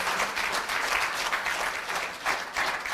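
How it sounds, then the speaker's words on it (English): Dense, steady applause from a large graduation ceremony audience, continuous broadband clapping with small swells, filling the hall without talk over it. "Another round of applause for Mr."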